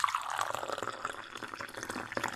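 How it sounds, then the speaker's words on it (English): Water is poured into a crystal glass, a close, bright trickling and splashing that fills the glass with a rising tone and quick little drips, fairly quiet with no voices. "The sound of water pouring was unnervingly loud in the stillness."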